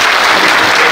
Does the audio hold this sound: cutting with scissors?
no